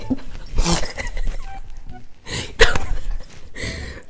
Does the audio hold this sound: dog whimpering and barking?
yes